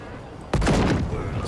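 A single loud gunshot rings out in the horror video game Last Year: The Nightmare, a sharp blast followed by a booming echoing tail.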